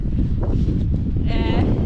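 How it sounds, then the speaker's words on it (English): Strong wind buffets the microphone at a windy Patagonia viewpoint with mountain views in Chile, a heavy low roar of gusts running throughout while a person speaks over it. "Yeah, it's very beautiful, very, very extremely windy."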